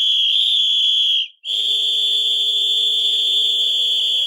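A piercing, steady whistle blown down a phone line by a caller, holding one shrill tone, cutting out for a split second, then resuming just as loud and sustained with a rougher buzzy undertone.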